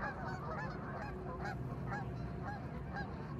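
A flock of geese honks continuously, with repeated overlapping calls over a steady background rush, fairly close and constant.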